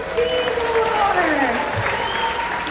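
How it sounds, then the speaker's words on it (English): Audience applause at a live orca show, a broad steady patter of clapping from a crowd that holds evenly throughout, with some faint background voices mixed in. "Okay, round of applause for Seymour!"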